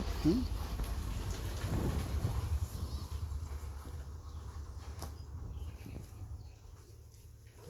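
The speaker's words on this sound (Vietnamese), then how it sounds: "mưa lên à" Steady rain with low rumbling thunder, continuous broadband wash throughout and a soft crack near the middle, moderately loud and fairly close, with a brief voice at the start.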